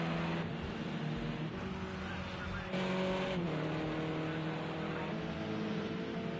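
A V10 gas-engine race car in a racing video game at Laguna Seca drones loudly and steadily, the engine note shifting as it changes gears, with no talk over it.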